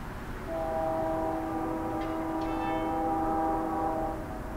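A BNSF freight train passing, with steady tonal horn-like and wheel-squeal harmonics sustained over rumbling rail noise for several seconds, fairly close and loud, no talk.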